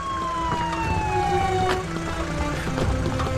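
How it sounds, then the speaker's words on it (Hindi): An ambulance siren wails loudly and steadily, its falling tone sweeping down again and again as the vehicle pulls up close, with no talking over it. "आ गई एम्बुलेंस आ गई।"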